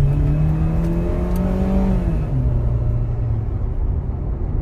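A station wagon's engine revs and accelerates on a test drive, a loud continuous rising drone that climbs in pitch, eases off, then settles into steady cruising rumble, heard from inside the car without talk.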